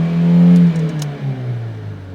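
A car engine revs up close while its RPM is read on an OBDII scanner, a loud mid-pitched drone that climbs and then eases back down over a couple of seconds.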